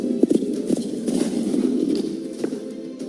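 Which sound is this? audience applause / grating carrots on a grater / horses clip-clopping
horses clip-clopping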